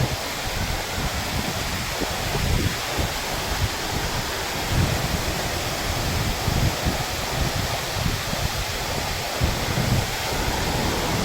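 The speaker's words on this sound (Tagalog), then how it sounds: "Napakaganda ng falls." Bisibis Falls in Mauban, Quezon, by the seashore: a steady broadband rush of falling water mixed with surf, continuous and fairly close, with no voices.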